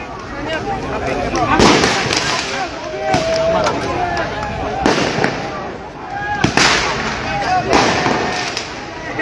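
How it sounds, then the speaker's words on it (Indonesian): Fireworks explode in several loud, sharp bursts spaced a second or two apart, with crackling between them while people at a protest rally talk and exclaim nearby. "Anehnya ini kembang api diarahkan ke gedung baru yang ada di pinggirnya itu"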